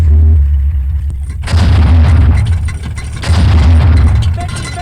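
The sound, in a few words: firework explosion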